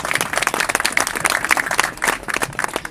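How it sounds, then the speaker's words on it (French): A crowd applauds at an outdoor Christmas market, with dense, lively clapping that stays loud and steady throughout. "oui, on peut les applaudir, Annie a raison."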